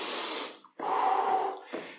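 Heavy, loud breaths close to the microphone during a high-intensity cardio workout: two long breathy exhalations with a sharp gap between them and a shorter breath at the end.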